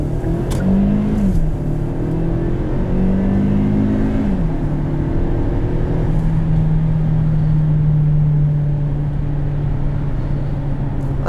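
A 2017 Hyundai Santa Fe Sport 2.0T turbo engine pulls hard on a snowy road, its steady drone rising in pitch through gears with brief shifts, loud and continuous from inside the cabin.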